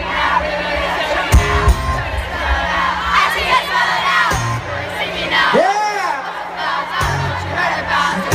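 A concert crowd at an outdoor summer show at Hersheypark yells and shrieks loudly and continuously, with high whoops and cheers rising over amplified music.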